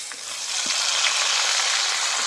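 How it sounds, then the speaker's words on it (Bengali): Chopped tomatoes hit hot oil and fried onions in a pan while a dhaba-style chicken curry is being cooked. A bright, steady sizzle follows, close and loud, with a few faint clinks of stirring and no talking. "এবার আমি টমেটো কুচি দিয়ে দিচ্ছি।"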